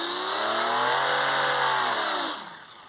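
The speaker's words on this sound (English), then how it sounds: "Let's do a full engine power up." A small electric motor on a balsa model airplane screams at high, steady full power with a buzzing whine, then winds down near the end.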